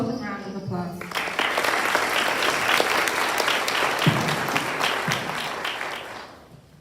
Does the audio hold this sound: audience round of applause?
yes